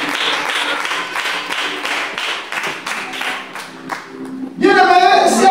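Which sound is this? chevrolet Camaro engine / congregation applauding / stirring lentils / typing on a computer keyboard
congregation applauding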